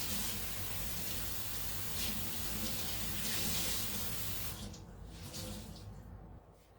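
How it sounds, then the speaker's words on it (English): Hands rinsed under a running sink tap, a steady broadband rush of water that holds for about four and a half seconds and then thins and softens toward the end as the flow is shut off. "I guess I gotta rinse my hands too."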